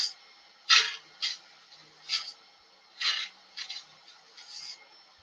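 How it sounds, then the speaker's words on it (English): A parting tool cuts into a spinning blank of wood and resin on a lathe, giving about seven short, irregular raspy scraping bursts separated by quiet gaps, close to the microphone. "Parting tool seems to be the tool to use"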